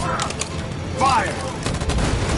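Gunfire in the video game Detroit: Become Human, a fast burst of shots with a brief whistling ring, playing under a continuous noisy game background.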